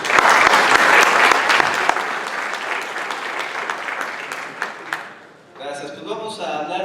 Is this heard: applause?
yes